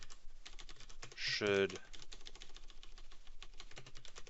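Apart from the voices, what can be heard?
typing on a computer keyboard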